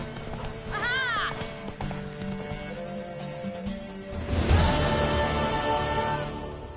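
A mare galloping and neighing in the God of War video game, with a clear whinny early on and rhythmic hoofbeats under game music, plus a loud crash near the middle and voices speaking over it.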